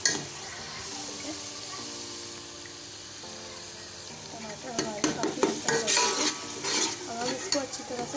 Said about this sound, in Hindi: इसको अच्छी तरह से भून लेंगे थोड़ा सा।